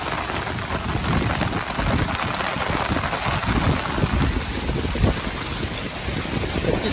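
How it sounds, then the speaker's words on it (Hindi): Heavy rain pours steadily in Dadyal, Azad Kashmir, with gusting wind buffeting the microphone in a dense, continuous roar that stays loud and close throughout, no voices. "इतनी तेज बारिश लगी हुई ना"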